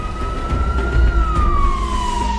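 Ambulance siren wailing as the vehicle drives away from a prison, a sustained tone slowly falling in pitch over a loud low rumble of engine and traffic, continuous and fairly close.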